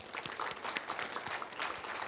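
Conference audience applauding steadily for about two seconds, a dense patter of many hands clapping at moderate loudness, with a faint voice now and then beneath it.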